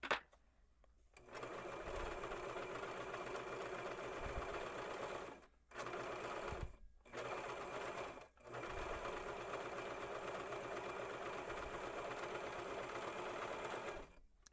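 A sewing machine runs steady basting stitches along a dress, humming and whirring in several long runs split by short pauses, close up and alone.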